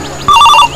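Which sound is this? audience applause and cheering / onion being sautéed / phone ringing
phone ringing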